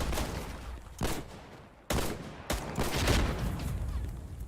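Video game battle gunfire: loud bursts of shots with sharp onsets, sustained rattling fire filling the mix, close and continuous with no talking.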